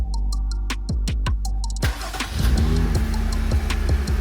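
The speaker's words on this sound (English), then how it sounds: "Once we start up the Jeep" A Jeep engine cranks with a rapid series of starter clicks, then catches and settles into a steady, close idle with a low rumble and a few small rev fluctuations.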